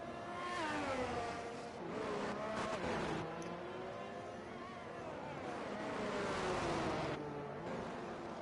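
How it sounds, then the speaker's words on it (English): An F1 race car in a racing video game reverses in the pits at the Singapore Grand Prix, its engine droning steadily with rising and falling pitch sweeps for several seconds. "Falzaresi backing up the car."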